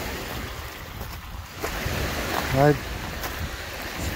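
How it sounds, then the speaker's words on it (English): Waves wash steadily onto the shore of Lake Mille Lacs in northern Minnesota, a continuous close surf with wind noise, and a voice briefly speaks over it. "Love the sound of the waves."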